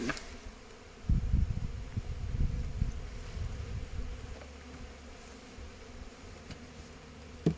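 Honeybees buzz around an open hive during a full inspection, a dense hum that swells near the microphone early on, then settles to a steadier drone with light wind noise.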